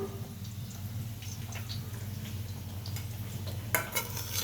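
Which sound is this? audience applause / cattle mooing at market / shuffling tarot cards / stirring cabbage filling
stirring cabbage filling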